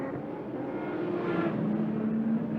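Volkswagen New Beetle race cars at Circuit Gilles Villeneuve, with a moderately distant engine drone that rises in pitch as a car accelerates past, faint against the track ambience.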